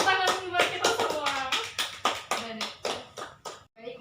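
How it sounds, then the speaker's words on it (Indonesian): A classroom group claps hands together in brief applause, the claps sharp and close, with voices mixed in as people talk and cheer over the clapping. "tepuk tangan buat kita semua"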